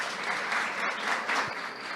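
An audience at a Colombia 4.0 technology conference claps for two guest speakers, a dense, even applause filling the room throughout.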